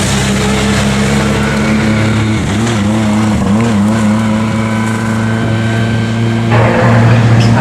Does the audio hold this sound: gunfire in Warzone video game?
no